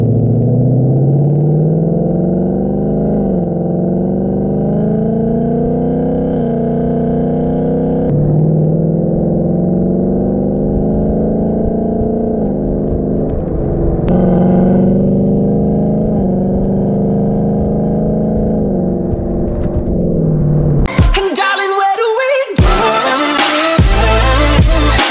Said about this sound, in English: I'm gonna end this one with an amazing exhaust clip